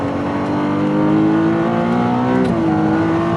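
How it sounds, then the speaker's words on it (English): A Ferrari 296 GTS V6 hybrid accelerates hard, its engine note rising steadily in pitch with a brief dip around a gear change before climbing again, loud and close, heard from inside the car with no talk. "This is one of the fastest Ferraris I have ever driven."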